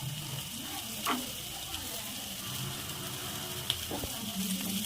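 Beans and carrot for noodles sizzle softly in a pan, a quiet, steady frying crackle with a few scattered ticks and knocks of stirring.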